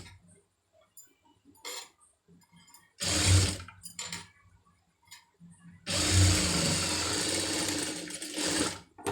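A sewing machine stitching thread piping, running in two loud steady bursts of whirring stitching separated by quieter gaps with scattered small clicks and handling sounds.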